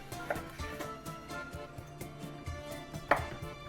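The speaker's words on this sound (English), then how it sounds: "let's start slicing these in half" Knife slicing garden-fresh tomatoes in half for sauce, heard as a few soft, scattered cuts with a sharper board knock near the end, over quiet kitchen background.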